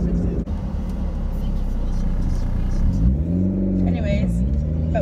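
A car's engine hums steadily from inside the cabin while driving, with the engine note swelling and rising partway through as people talk over it.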